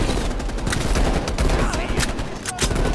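Dense, rapid gunfire from the video game Call of Duty: Black Ops Cold War, with loud bursts and automatic fire crowding together over a busy in-game background.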